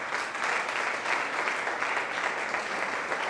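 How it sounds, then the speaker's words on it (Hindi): Loud, sustained applause from an audience at a church educational seminar, dense even clapping that fills the whole moment with only slight voices underneath. "कुरान के खानों के लिए जोरदार तालियां।"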